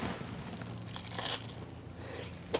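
A bite into a crunchy breakfast tostada topped with griddle-cooked hash browns, sausage and salsa gives a close, dry crunching and crackling that continues through the chewing, with a brief sharp sound at the very end.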